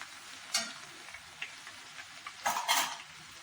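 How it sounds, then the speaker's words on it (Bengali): Crushed garlic frying in oil for a kasuri methi mutton dish, a quiet continuous sizzle punctuated by several brief louder bursts of crackle and spoon scrapes, with two stronger surges near the end. "আমি একটু থেতো করে রসুনটা এর সঙ্গে ভাজছি"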